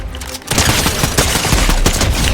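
Rapid gunfire in the video game Fortnite, a dense loud burst of overlapping shots starting after a short pause and continuing without letup.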